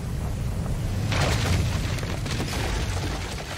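Warship cannons firing in the video game Gunfire Reborn, a heavy booming blast over a dense, rumbling battle din that stays loud throughout.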